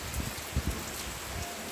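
Steady rain pours during a Cyclone Remal storm, heard from a second-floor vantage with a continuous hiss and a few louder low gusts or thumps, no voices.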